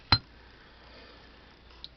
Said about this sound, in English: This is a big glass pumpkin.